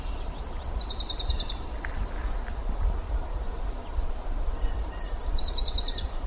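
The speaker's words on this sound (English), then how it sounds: "Nashville warbler." Nashville warbler singing in a spruce fir area in Maine, two bright trilled phrases, one at the start and one near the end, over a steady low background rumble.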